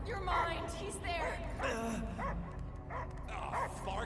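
Cosmo the dog in the video game Guardians of the Galaxy barks and whimpers in short yips amid game sound, with characters talking over the dog's voice at close range.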